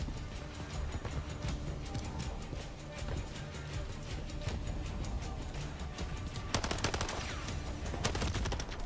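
Rapid gunfire from Call of Duty Modern Warfare 3 multiplayer rattles on continuously, dense bursts of automatic shots with a sharper close volley near the end, alone without talk.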